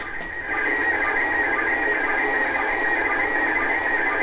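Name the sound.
slow scan television radio signal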